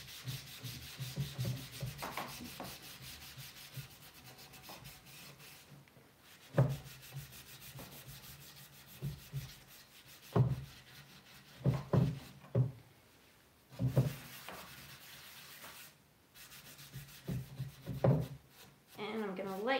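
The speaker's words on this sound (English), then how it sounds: "The more you buff, the more comes off, and it does leave a nice soft finish at the same time" Cloth buffing grey wax on a faux wood nightstand, with soft intermittent rubbing strokes in short bursts separated by pauses, faint and close, with some quiet talking in between.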